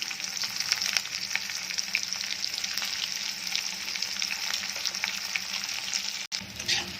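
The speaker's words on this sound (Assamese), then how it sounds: "এতিয়া প্ৰথম মই তেজপাত 2টা দিলোঁ, পিঁয়াজখিনি দি দিছোঁ" Two bay leaves and sliced onions fry in a pan of hot oil for a pork and mustard greens dish, a loud steady sizzle with crackle that runs throughout and ends in a brief stirring scrape.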